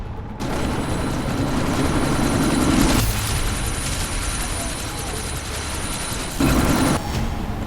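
Helicopter in the video game Deus Ex: Mankind Divided, a steady loud rotor roar and mechanical drone running throughout, with brief louder bursts like impacts or gunfire mixed in.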